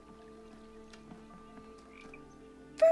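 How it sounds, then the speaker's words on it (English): Frog croaks from a video game puzzle level, a low steady croaking drone running throughout with a louder, sharper croak bursting in near the end. "Frogs!"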